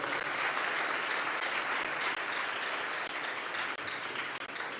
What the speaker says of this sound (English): So, a loud round of applause.